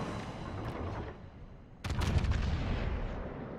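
Naval guns fire from warships in the video game World of Warships, giving heavy booming blasts over a continuous rumbling din that briefly dips before a fresh loud volley, with no talking.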